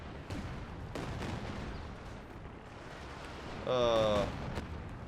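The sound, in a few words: artillery fire in Company of Heroes 2 video game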